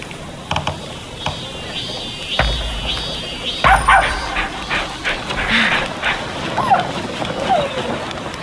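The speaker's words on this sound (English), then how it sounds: "if you see someone else's pilgrim dog, take care of it." A pilgrim dog in the video game Rise of the Ronin, heard as dog panting, whimpers and short yips over steady background game ambience, fairly close and loud.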